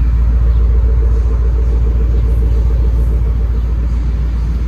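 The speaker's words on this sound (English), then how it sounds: "This is the SVR. Can you hear that thing running?" Range Rover SVR idling at a custom wheel shop, a steady deep engine rumble that stays loud and close throughout with no revving and no talk.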